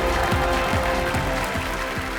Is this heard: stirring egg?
no